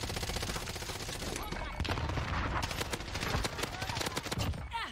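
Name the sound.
gunfire in video game Call of Duty Warzone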